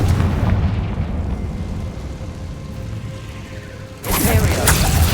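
Confringo spell cast in Hogwarts Legacy, a dense rumbling burst of blast noise that eases off and then swells again with a sharp bright crackle near the end, loud and close.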